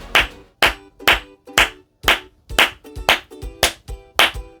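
One person claps their hands repeatedly, about ten sharp, close claps at a steady rhythm of roughly two per second, each followed by a short room echo.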